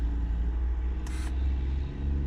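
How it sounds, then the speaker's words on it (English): A big gravel truck hauling a heavy load passes by, a steady low rumble throughout with a brief hiss midway, no talking. "Here goes a big old gravel truck."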